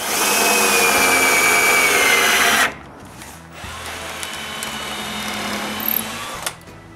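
A power drill runs loud and steady for a few seconds, boring pilot holes and driving 2-inch brass screws while building window frames in a new woodworking shop, then drops to quieter handling and intermittent whirring.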